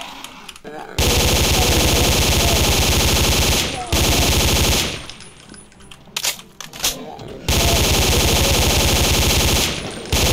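A Tommy gun in the video game Omertà sprays fully automatic .45 ACP fire in long, loud, close bursts, with short gaps where a voice talks in between.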